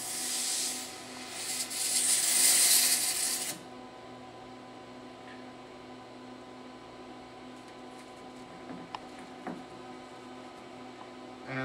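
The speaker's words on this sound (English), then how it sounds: "So I have here two pieces of plastic, and I'm going to weld, spot weld in two spots" A SharperTek ultrasonic handheld welder spot-welds two pieces of plastic, giving one loud, steady high hiss lasting about two seconds, then stopping abruptly; faint rustling and small clicks follow in a quiet room.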